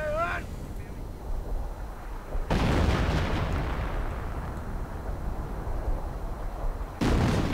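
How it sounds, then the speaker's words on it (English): Artillery fire in a Company of Heroes match, with heavy booming bursts and a sustained rumbling barrage rolling beneath a commentator's voice, a fresh loud blast landing near the end. "And more artillery going in now"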